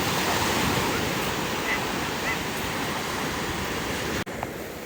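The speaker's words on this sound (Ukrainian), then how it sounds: "А сьогодні хвилі. Ще й такі немалі, я вам хочу сказати." Sea waves on a beach in Odesa, a continuous loud roar of surf with wind noise, steady throughout with a brief dropout near the end.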